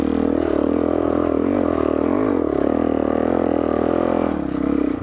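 Dirt bike engine climbing a hill in second gear, a loud, close, continuous droning roar that rises and falls slightly in pitch as the rider carries speed up the slope.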